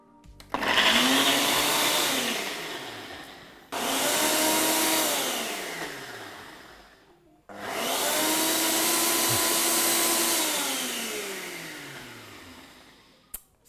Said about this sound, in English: You could just blitz this as much as you want to get it as smooth as you want